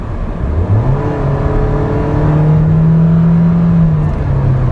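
A 2013 Nissan Sentra engine revs up, its drone climbing in pitch and holding high at a steady loud whine, then easing slightly near the end, close by with no talk.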